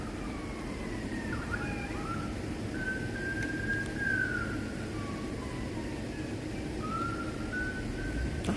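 A police siren wails at a distance in the city, its thin rising and falling tone drifting over a steady rumble of street and traffic noise.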